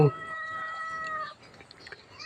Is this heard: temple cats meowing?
yes